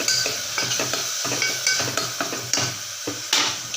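A spoon stirs tomato and green chilli in a cooking pot for sambar rice, with repeated scraping clinks of metal on metal over a light sizzle, steady and close.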